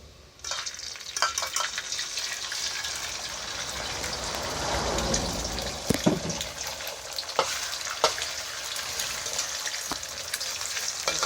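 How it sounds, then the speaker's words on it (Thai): Eggs being stir-fried in a pan for a Thai cucumber and egg dish, a steady close sizzle with scraping stir strokes and a few sharp clinks of the utensil against the pan. "ตอนนี้เอาไข่มาผัดก่อนครับ"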